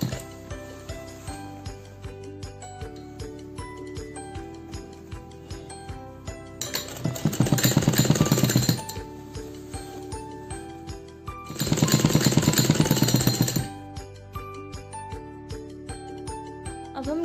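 A sewing machine stitches a top with two bursts of rapid, steady running, each lasting about two seconds, separated by quieter clicking and ticking mechanism sounds, close and fairly loud with no talking.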